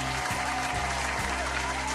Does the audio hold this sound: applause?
yes